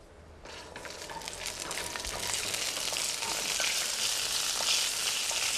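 Whole peppercorns frying in just a slick of oil with ginger, a steady bright sizzle that starts abruptly and holds loud and close throughout, with no talk over it.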